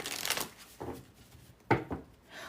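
A tarot deck shuffled by hand, bursts of riffling card flutter separated by brief pauses, close and moderately loud.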